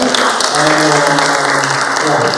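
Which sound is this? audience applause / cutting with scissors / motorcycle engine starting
audience applause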